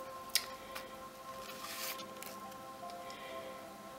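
Tarot cards being shuffled by hand, heard close but faint as soft papery rustles and a few light slaps and riffles spread over several seconds, with no talking.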